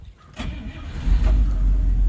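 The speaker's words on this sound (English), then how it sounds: "Okay, and now we're going to start the car." A 1954 Cadillac Coupe deVille with its 331 V8 starting: a brief starter crank, then the engine catches and settles into a deep, loud, steady rumble close by.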